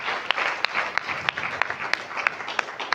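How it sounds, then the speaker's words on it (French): An audience at a school slam poetry event in Tambacounda applauds a teacher, a dense patter of clapping with a few sharp individual claps standing out at a fairly regular pace. "j'aimerais que vous applaudissiez pour lui."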